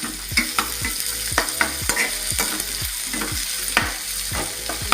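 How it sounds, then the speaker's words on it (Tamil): Onions sauté in a pan of hot oil for a hotel-style poori masala, cooking until golden, with steady sizzling and a spatula scraping in repeated strokes roughly every half second, close and fairly loud. "வெங்காயம் ரொம்ப வதக்கக்கூடாது. ரொம்ப கருகிற அளவுக்கு வதக்காமல்"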